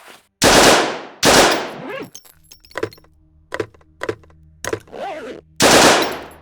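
Gunfire from a gun in the pixel-art survival tactical RPG No Such Place, fired with its muzzle attachment removed. Three loud, sharp, broadband shots stand well apart, with softer mechanical clicks and clacks in between.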